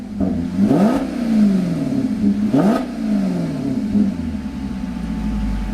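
A 2013 Maserati GranTurismo MC Sport Line engine revs sharply twice in sport mode with its exhaust baffles open, rising and falling with a deep exhaust rumble between the bursts.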